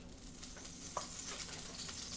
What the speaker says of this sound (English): Put down a few tablespoons of oil.